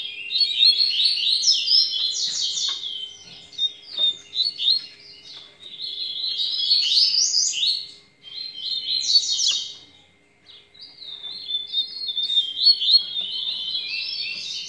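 A caged songbird sings continuously up close, with bright chirping and twittering phrases broken by short pauses, clear against a quiet background.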